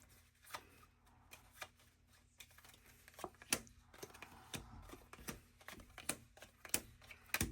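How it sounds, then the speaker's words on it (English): A deck of cards is shuffled at a tabletop game: a quiet series of quick riffling, flicking bursts and taps, close and without speech. "Okay, shuffle up our cards here."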